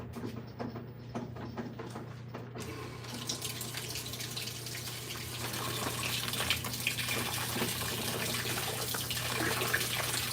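Tap water runs steadily into a container, a gentle splashing stream that grows fuller and louder after a few seconds as the flow strengthens, with no talking.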